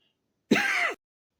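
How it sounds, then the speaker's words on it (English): A single short, close cough or throat-clearing burst, sharp and fairly loud, with silence on either side. "pardon the cough there"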